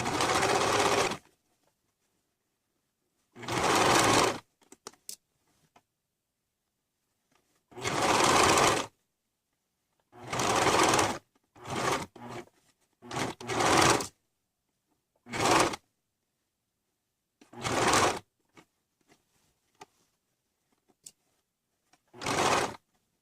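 A sewing machine sews a t-shirt sleeve seam in repeated short, loud bursts of stitching, each a second or so long, separated by quiet pauses.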